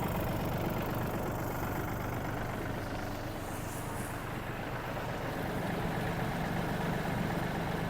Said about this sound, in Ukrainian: Карданчик крутиться досить швидко, ножі теж.